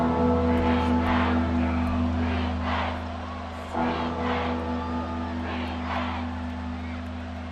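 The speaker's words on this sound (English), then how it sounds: "A big play here. Crowd on their feet." A crowd in a football stadium cheers during a big play in a Jacksonville versus Tampa Bay game, a broad steady roar running the whole time under a humming drone and a commentator's talk.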